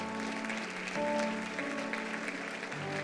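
A church congregation claps in praise to the Lord at a Christmas service, a steady dense wash of hands throughout, with organ or keyboard tones sustained beneath and no one speaking.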